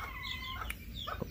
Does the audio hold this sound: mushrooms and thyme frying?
no